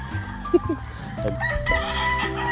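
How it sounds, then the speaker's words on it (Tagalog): A rooster crowing at chicken coops in a rural Philippine setting, one drawn-out crow rising over a steady background hum, with a voice talking nearby. "may mga manukan dito"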